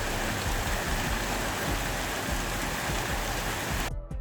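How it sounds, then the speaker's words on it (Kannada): Steady outdoor rain hissing and pattering on surfaces, falling as a festival puja wraps up, a dense continuous wash of drops that holds for several seconds before cutting off abruptly. "ಪೂಜೆ ಎಲ್ಲ ಆಗೋಷ್ಟರಲ್ಲಿ ಮಳೆ ಶುರು ಆಯಿತು."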